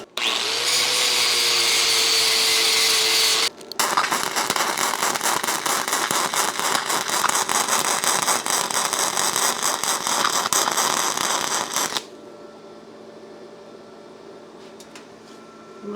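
A cheap flux core welder burns steadily with dense crackling buzz for several seconds, cuts briefly, then resumes loud and continuous before dropping to a quieter idle hum near the end.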